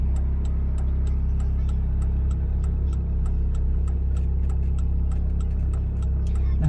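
Left turn signal of a car ticking steadily during a city driving exam route, a regular train of sharp clicks over the constant low hum of the engine inside the cabin.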